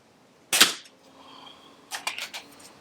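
A Snowpeak SP500 air pistol fires: one sharp, close crack, then a quieter cluster of rapid clicks and snaps about a second and a half later, in an otherwise quiet setting.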